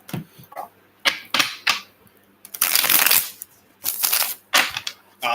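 Tarot cards are riffled and shuffled in quick crisp bursts, close up, with short pauses between the flurries.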